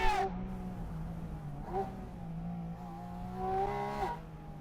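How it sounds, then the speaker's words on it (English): A Porsche engine is braked and downshifted, then revved hard into the rev limiter. Rising revs climb in several surges, each ending in a sharp cut, with the engine loud and close and no talking. "Brake again, downshift, and really push it all the way into the rev limiter."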